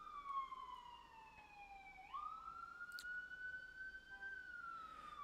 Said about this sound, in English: It literally sounds like the ambulance is not really moving.